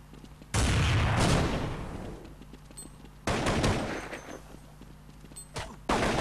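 Gunfire in a Counter-Strike match at a LAN tournament, with sharp loud shots followed by decaying echoes, a second burst a few seconds later and fainter pops between, no voices.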